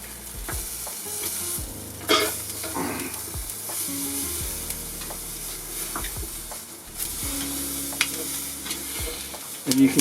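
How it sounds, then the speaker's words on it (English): Beef fore rib searing on a Lidl mini kamado grill with no deflector plate, a steady close sizzle and hiss with occasional clinks and shifts of the meat. "it's searing so quickly without that deflector plate in there"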